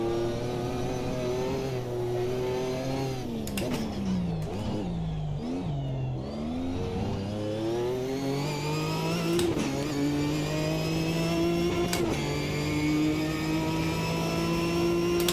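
A race car engine in an online sim-racing endurance event over-revs. It holds a loud, sustained whine, dips and wobbles briefly as it shifts, then climbs steadily back up in pitch, alone and close throughout.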